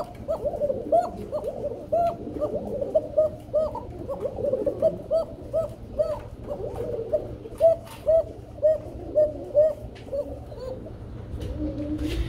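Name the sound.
pigeons cooing, Belgian bloodline racer pigeons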